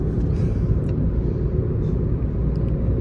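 From inside a vehicle, road traffic sounds as a continuous low rumble of engines and tyres, close and steady, with faint passing noises above it and no talk.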